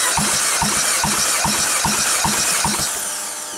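A 1.6 THP Peugeot/Citroen engine with 150,500 km cranking over on the starter during a compression test, with an even rhythmic chugging of about two beats per second that slows and fades near the end.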